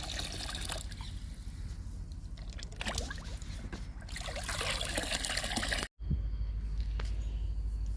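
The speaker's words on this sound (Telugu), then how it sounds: "ఇప్పుడు ఇచ్చేద్దామండి బెండ మొక్కలకి టమాటా మొక్కలకి లిక్విడ్ ఇచ్చేద్దాము" Liquid fertilizer trickles and splashes from a container onto okra and tomato plants outdoors, a continuous close pouring with a brief break near the end.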